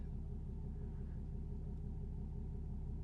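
A vehicle engine idles steadily to charge a lithium battery bank through a DC charger, a constant low rumble with a faint periodic throb running unchanged throughout, with no talk over it.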